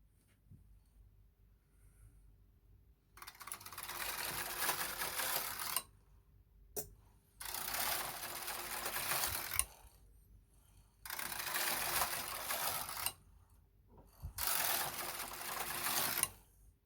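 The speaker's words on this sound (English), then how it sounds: "you're going to knit 4 rows all together to create the pattern" A Knitmaster Mod 150 knitting machine working tuck stitch rows, heard as four long, loud rasping sweeps of the carriage across the bed, separated by brief quiet gaps and a sharp click.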